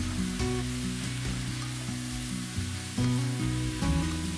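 Bean sprouts tossed into a hot wok with soy sauce and a little sugar, sending up a close, continuous sizzle with background music playing throughout.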